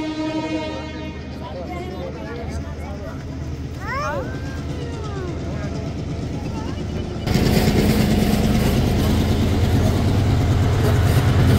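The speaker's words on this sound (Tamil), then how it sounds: "ரயில் வரப்போகுது." People talk over a rumbling background in Ella, Sri Lanka, that suddenly swells into a loud, steady roar of a train rolling past close by.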